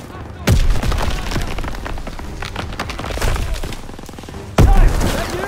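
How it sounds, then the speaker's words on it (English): Gunfire in the World War II shooter Call of Duty WWII, two loud, sharp shots with booming echoes against a busy battle backdrop of distant firing and rumbling, with voices shouting. "Gunfire! We must be near our guys."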